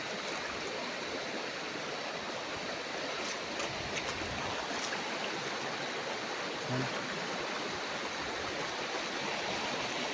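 Continuous rushing of a river flowing beside a farm lot in Real, Quezon, Philippines, a loud, steady broadband wash of water with no pauses or voices.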